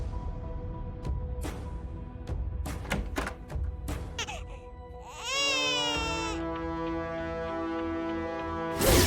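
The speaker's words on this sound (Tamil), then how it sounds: "குழந்தை அழுதுட்டு இருக்கு, யாரையுமே காணோமே." An infant wails loudly and close by in a Tamil TV drama scene. A few thuds and knocks come first, then a sustained rising and falling cry with no one speaking.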